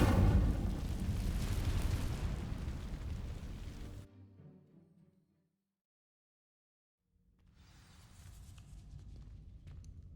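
A fire spell ignites dry vines in Hogwarts Legacy, a loud roaring whoosh of flame for about four seconds, then fading into near silence before a quieter rumble of ambience returns.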